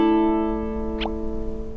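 A ukulele chord strummed with the fingertips rings out as a soft sustained chord, slowly fading over under two seconds with a faint tap partway through, no voice.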